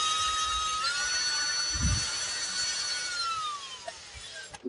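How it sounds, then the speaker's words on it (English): A power drill whines steadily at close range, its pitch rising and then dropping as it self-taps a screw through plastic, then stops. "take the screw and same thing, just self-tap it, just drill it right through the plastic"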